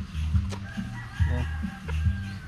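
Backyard chickens on a Filipino farm, a rooster crowing and hens clucking close by in repeated short bursts, with faint rustling between calls.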